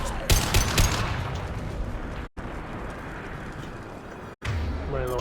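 Sustained gunfire in the video game Mass Effect 2, dense rapid shots roaring almost without pause, loud and close, with brief sharp cuts and a voice faintly under it at the end.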